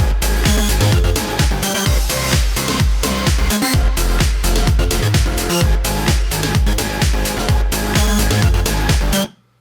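Electronic dance track built on a grooving layered bass line with claps, hi-hats and extra percussion, loud and steady throughout before cutting off abruptly at the end.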